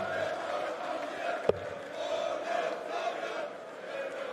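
A costumed Austrian crowd at a darts championship match keeps up a steady roar and chanting, with a couple of sharp claps or thumps cutting through the sustained noise.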